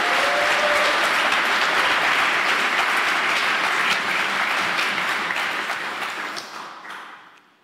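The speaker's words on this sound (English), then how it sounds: "big applause" Loud, warm applause from a large audience at a talk on the role of the writer, dense continuous clapping that holds strong before gradually tapering away to silence at the end.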